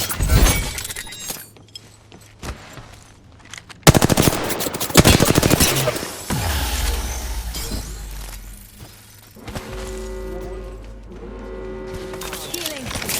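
Game gunfire in Apex Legends on the Broken Moon map: loud bursts of automatic fire and sharp shots come in clusters, with breaking, shattering impacts and electronic game sounds mixed in, plus some voice.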